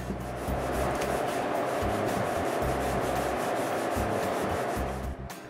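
A serrated bread knife saws through a building insulation panel in a workshop under construction, giving a continuous rasping scrape with quick, regular back-and-forth strokes that stop near the end.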